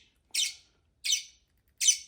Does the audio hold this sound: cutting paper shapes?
no